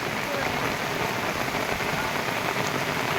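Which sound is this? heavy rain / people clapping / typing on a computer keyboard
heavy rain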